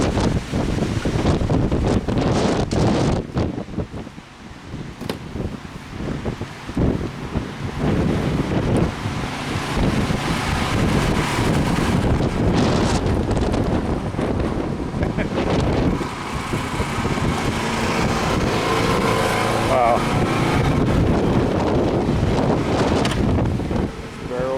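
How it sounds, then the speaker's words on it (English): Wind blowing hard into a microphone outdoors produces a loud, continuous roaring buffet with a washing, surf-like texture that surges and eases for the whole stretch. "Now, out into the wind, see what happens to my voice."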